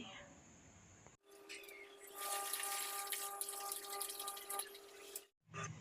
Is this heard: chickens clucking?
no